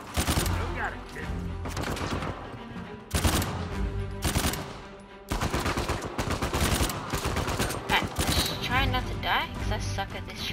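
Gunfire from the video game Uncharted 4, rapid bursts of shots in clustered volleys with short pauses, close and loud, with game voices faintly under it.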